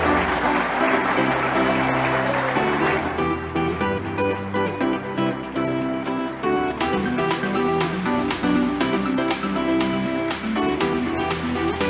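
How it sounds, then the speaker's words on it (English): Audience applause at an IT industry conference keynote in Europe honoring a lifetime achievement award winner, sustained and loud over music for about twelve seconds, swelling into sharper clapping in the second half. "give a huge, huge round of applause to our Lifetime Achievement Award winner"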